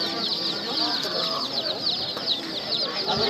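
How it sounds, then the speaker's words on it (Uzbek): Incubator-hatched chicks cheep in a crowded bunch at a livestock market, a continuous high chorus of peeping over a busy background with some distant voices. "Mana inkubator jo'jalari"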